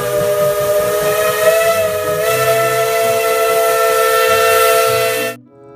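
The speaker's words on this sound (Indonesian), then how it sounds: "Kereta Thomas." A toy Thomas train gives a long electronic steam whistle with a hissing steam effect and chugging underneath, loud and close with no voices, stopping sharply at the end.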